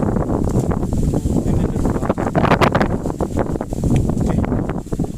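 Wind buffets a fishing raft on a reservoir at night, a loud, continuous rumbling roar of gusts against the microphone with no clear voices.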